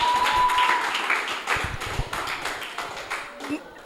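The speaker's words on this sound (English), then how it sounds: "A round of applause for her once again." An audience at a poetry slam claps in scattered, uneven bursts that thin out over about four seconds, with faint voices underneath.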